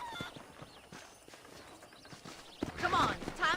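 Horse hooves clip-clop at a walking pace in the Red Dead Redemption video game, with voices talking over them and a rising swell near the end.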